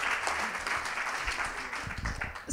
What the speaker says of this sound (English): That's worth some applause, I